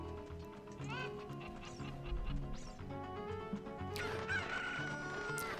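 Cucco chickens from a Zelda video game crow and cluck in bright repeated calls over game background music, growing louder toward the end.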